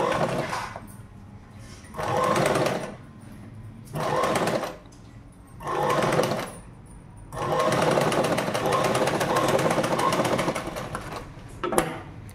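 A sewing machine stitches a jacket in several close, loud bursts of rapid mechanical whirring, each a second or two long and separated by short pauses, ending in one long continuous run.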